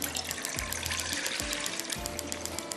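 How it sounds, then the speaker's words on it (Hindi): Water pours steadily into a cooking pan, about four glasses' worth, with a continuous splashing rush and rhythmic low glugs as it fills, close and fairly loud. "पानी के लिए मैं यहाँ पर रखूँगी एक पैन"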